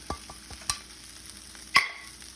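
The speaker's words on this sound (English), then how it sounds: "once the onions and the jalapenos and the garlic have fried together for about 5 to 6 minutes" Onions, jalapeños and garlic cooking in a pot, with a soft low sizzle under three sharp clicks of a spoon knocking against the pot, the last one loudest, heard close up.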